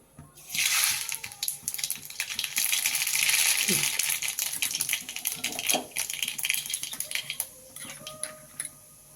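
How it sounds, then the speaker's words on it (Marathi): Mustard seeds sputter and pop in hot oil in a pan, a dense, continuous crackle of close, fast pops that thins out toward the end, with no talk. "आता यामध्ये आपण तेल आपलं तापलेलं आहे यामध्ये आपण मोहरी टाकून घेऊ"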